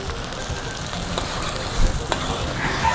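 Paella with shrimp stock is stirred in a sizzling pan. A steady frying hiss runs throughout with soft scraping stir strokes and a couple of louder clatters, close and alone with no talk.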